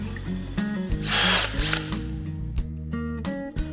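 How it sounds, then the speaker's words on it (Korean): Electric drill boring holes in wood for a power bank build, with the motor whining through several speed changes and rising strongly as the bit bites in, loud and close. "나무라서 드릴로 금방 구멍을 가공할 수 있습니다."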